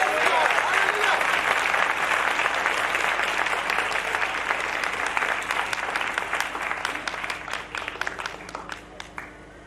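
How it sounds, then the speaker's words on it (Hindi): A church congregation claps loudly for Jesus Christ at an evening worship service, dense sustained applause that thins toward the end into scattered individual claps. "यीशु मसीह के लिए जोरदार तालियां बजाएं।"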